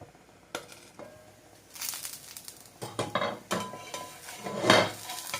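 A lid is set on a frying pan while a breakfast pancake fries in a little oil on the stove. Scattered metallic clanks and scrapes of cookware, close and moderately loud, with a faint sizzle underneath.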